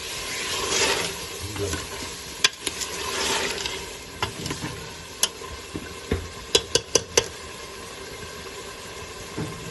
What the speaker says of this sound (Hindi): तो साथ में हरी मिर्चें 2 से 3 ऐड कर देते हैं और इसकी भुनाई कर लेते हैं